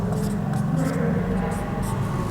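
A question being written by hand during a current-affairs lesson: short, scratchy pen or marker strokes in several small bursts over a steady low hum.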